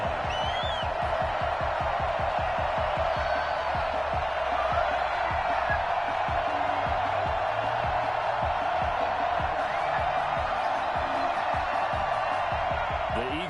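Stadium crowd in a football video game, a steady roar of cheering and murmur that holds at an even level throughout, with a commentator's voice running over it.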